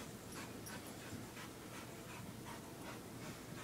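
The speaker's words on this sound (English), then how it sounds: "He's panting like crazy." A dog, a basset hound mix, pants heavily and continuously in rapid, breathy rhythmic bursts close by, with no talking.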